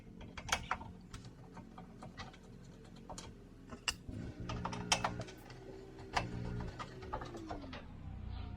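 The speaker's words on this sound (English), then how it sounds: "once you have these 4 screws out, you can remove the headlight cover." Screws are removed from a Miata headlight, giving faint, sparse ticks and small metallic clicks against a low background hum, with a soft pigeon-like cooing underneath.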